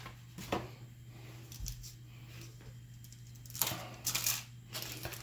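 A knife cuts into shiny foil snack packaging of a hazelnut product, making scattered crinkly crackles and scraping taps, with a couple of louder bursts of foil rustle toward the end.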